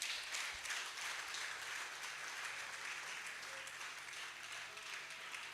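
Audience applause at a valedictory lecture at a polytechnic: a dense, even wash of clapping from a large crowd, sustained at moderate loudness across several seconds.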